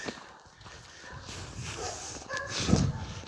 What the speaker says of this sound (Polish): Chyba mnie psy zaczną atakować.